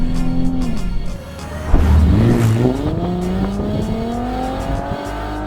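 A Nissan 370Z in manual mode downshifts on the paddles, its engine blipping and revving up then settling into a rising, steady drone, with a sharp thump at the shift and a loud, close cabin perspective.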